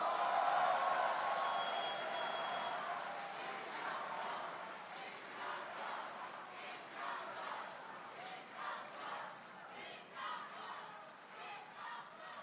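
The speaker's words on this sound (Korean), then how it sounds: "다시 한번 박수 부탁드립니다" Applause and cheering from a crowd at a Korean party political rally in Honam, a faint, distant roar with rhythmic clapping that swells and eases in waves, with no talking over it.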